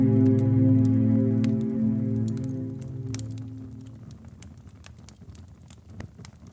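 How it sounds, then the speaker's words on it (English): Rain ticks against stone in soft, irregular patters, heard under a low droning tone that fades away, leaving the light dripping more exposed. "Rain ticks against stone."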